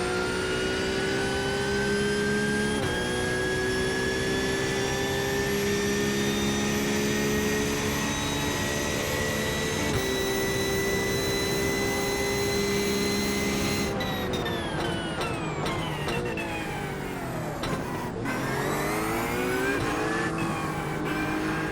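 Race cars from a racing video game at Indianapolis Motor Speedway pull away from a rolling start, a loud, steady engine drone with a rising pitch, then a burst of shifting and revving as the pack accelerates. No one talks.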